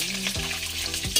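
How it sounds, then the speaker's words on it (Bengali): Potatoes fry in oil for a meat curry cooked at a Thursday riverside picnic by the Mechi river on the Nepal border, a steady sizzle with a low humming tone underneath and a brief louder scrape near the end. "এই যে আমাদের আলু ভাজা হচ্ছে মাংসের জন্য।"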